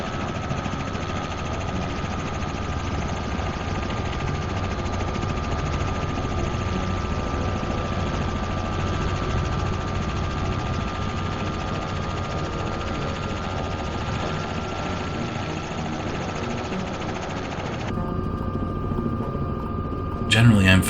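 A helicopter's rotor and engine in Microsoft Flight Simulator 2024, a steady, loud whirring drone with a constant hum that runs without a break, then thins briefly near the end.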